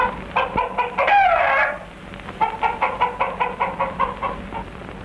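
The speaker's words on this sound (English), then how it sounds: "The favorite Dayak sport is cockfighting." Roosters sparring in a Dayak cockfight among the Iban, with loud nearby clucking and a drawn-out crow, followed by a rapid, steady series of clucks and squawks, with no voices.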